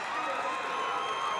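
At a Class C2 state volleyball championship between Lutheran High Northeast and Ord, the crowd gives off a steady, dense roar of cheering and shouting that stays level throughout.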